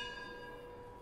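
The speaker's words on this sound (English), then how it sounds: "Don't let the bell distract you." An hourly bell rings out during a spiritual lecture on love, its sustained metallic tone and layered overtones holding steady and clear for the whole moment with no talking over it.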